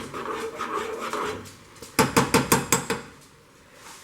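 Bananas mashed for oatmeal in a bowl, a fast series of about seven rhythmic utensil strikes and squishes against the dish after some softer scraping, close and loud.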